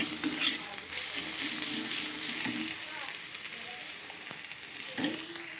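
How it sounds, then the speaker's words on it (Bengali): Crushed fried lentil dumplings being stirred into radish greens in a hot pan, a steady close sizzle with soft scraping stirs and a brief louder burst near the end. "বড়ি ভাজাটা একটু হাত দিয়ে ভেঙে নিয়ে এর মধ্যে দিয়ে ভালো করে নেড়ে নিলাম"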